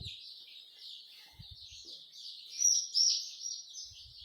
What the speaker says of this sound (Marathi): तर आता आपण पिल्ले आतमध्ये टाकू